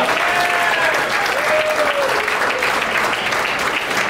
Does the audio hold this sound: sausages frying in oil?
no